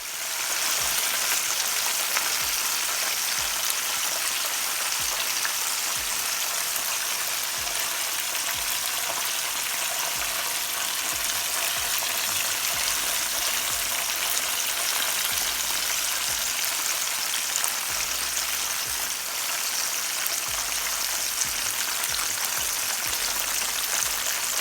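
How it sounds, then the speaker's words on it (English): Chicken pieces deep frying in hot oil, a steady dense crackle and sizzle with fine popping that runs continuously and evenly throughout, close and fairly loud with no voices. "make sure your oil is hot and place those chicken in ever so gently"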